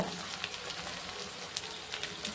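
Tomato frying with spices in a pan for cucumber palya gives a soft, continuous sizzle with small crackling pops scattered through it, close and fairly quiet, with no voices.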